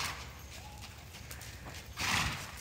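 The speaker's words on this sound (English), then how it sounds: "can you ask your horse to walk?" Soft hoof clops from a walking horse, faint and irregular, with a louder scuffing burst near the end.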